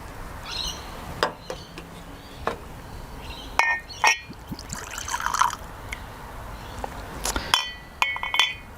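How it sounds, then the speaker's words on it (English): Macallan Oscuro whisky poured from a corked bottle, with light glassy clinks, drips and trickling liquid in short bursts, close and fairly quiet. "Nice pouring without really spilling anything as well, which is nice."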